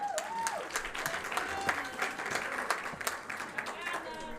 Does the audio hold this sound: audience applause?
yes